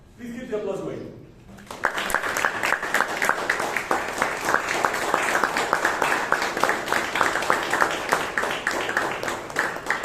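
After a brief voice, an audience at a Bangalore Toastmasters meeting breaks into sustained applause, with loud, even clapping that continues to the end while someone speaks over it.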